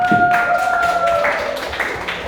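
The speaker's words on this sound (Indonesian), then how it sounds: "tepuk tangan dulu untuk kelompok Kintan ya" A math class claps for a student group, with close, irregular hand claps from several people in a classroom and a faint tonal hum in the background.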